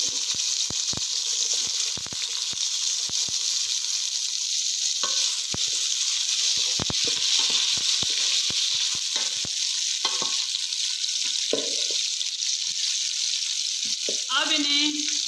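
Sliced onions hit hot, fatty oil for beef yakhni polao and fry with a steady bright sizzle, broken by scattered clicks and scrapes of stirring. A voice speaks briefly near the end over the sizzle.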